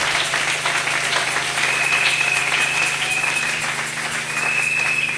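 A church congregation applauds in acclaim of the Lord, a dense, steady wash of clapping that fills the whole stretch at a fairly loud level over a low constant hum.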